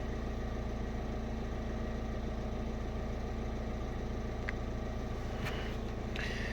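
A Citroen Berlingo engine idles steadily with a low, even hum and vibration, a few faint clicks and ticks in the background, no talk.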